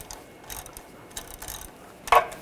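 A socket ratchet loosening CV axle bolts on a 2006-2010 BMW 550i, giving quick, close clicking bursts of the pawl with short pauses and a louder metallic clack at the end.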